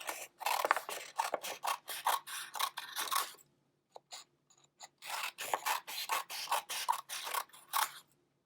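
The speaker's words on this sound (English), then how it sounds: "And I'm just going to cut little strips." Scissors snip through paper strips in steady runs of quick, close cuts, a short pause with a few isolated snips, then another rapid series, with no talking.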